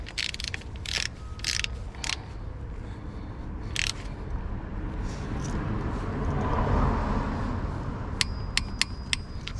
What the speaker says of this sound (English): I'm going to torque it for 35 foot-pounds